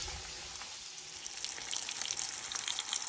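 Fish fillets fry in a pan for fish tacos, giving a steady crackling sizzle up close that swells slightly louder partway through, with no talking.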